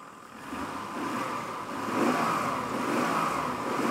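An inline six-cylinder car engine, restarted after twenty years, idling and then revving up steadily, a smooth even roar that grows louder and holds, heard close with no talking.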